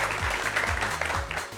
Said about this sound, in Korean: 오늘의 주인공 두 분을 큰 박수로 모시겠습니다